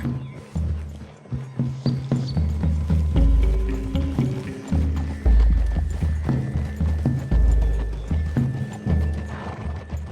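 Horses in the Red Dead Redemption 2 video game moving through woodland, with steady hoofbeats and an occasional whinny over loud, continuous game music and ambience.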